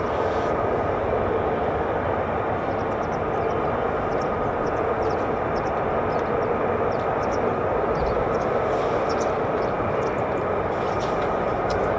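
F-15 and F-35 fighter jets on the runway of a US Air Force base at RAF Lakenheath, their engines spooling in a steady, loud, continuous roar that holds without a break for the whole stretch.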